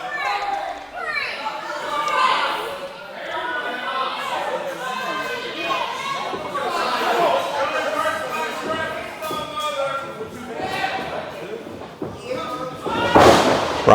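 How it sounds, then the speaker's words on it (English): A wrestler is slammed onto the ring mat during an independent wrestling match, a heavy thud near the end cutting through constant crowd chatter and kids' voices, with commentators talking over it. "Brian slams him."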